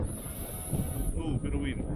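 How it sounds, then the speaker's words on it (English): Wind buffeting a microphone outdoors during an FPV drone flight, a loud, rough low rumble that gusts over two seconds, with a high-pitched whine running above it. "bit of wind"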